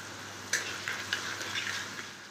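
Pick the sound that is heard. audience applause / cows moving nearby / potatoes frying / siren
potatoes frying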